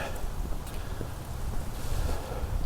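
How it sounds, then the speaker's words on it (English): Steady low rumbling wind at Lake Fayetteville on a cold day buffeting the microphone, continuous and fairly loud throughout, with faint rustling above it. "it's a cold and windy day here at Lake Fayetteville"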